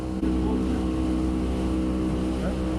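A Yamaha 90 outboard motor drives a boat at speed with a steady, loud, low engine drone, wind and water noise blended in throughout.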